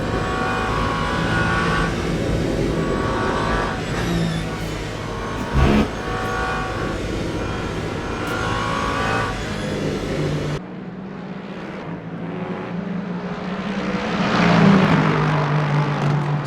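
Race cars in the Le Mans Ultimate racing game drone loudly at high revs during the 24 Hours of Le Mans, then the engine note drops and a car accelerates again, rising in pitch.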